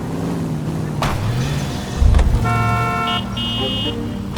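A car in L.A. Noire drives along with a low engine hum, a dull thump midway, then several short horn toots close by.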